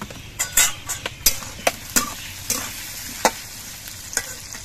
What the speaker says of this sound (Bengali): কড়াইতে আলুগুলো ভাজা হচ্ছে,